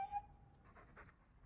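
A dog in the video game Dragon Age 2 pants in a few soft, breathy bursts, fairly quiet and with no talk over it.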